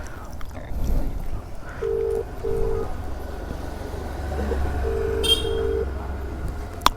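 On a Hyderabad-to-Yercaud motorbike trip on a Yezdi Adventure, two pairs of short, even electronic tones from a phone call ring out over road and traffic rumble.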